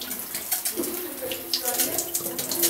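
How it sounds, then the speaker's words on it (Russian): Hot water running from a hotel shower in Caleta de Fuste, Fuerteventura: a close, hissing spray of water that fluctuates steadily, with a faint voice and other small sounds underneath. "Сейчас проверим, идет ли горячая вода."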